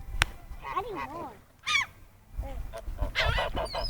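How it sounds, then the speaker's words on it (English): Seagulls being fed bread cry out in several separate squawking, wavering calls, some close and loud, others shorter, with pauses between them. "Yo, these seagulls, where the hell these seagulls come from,"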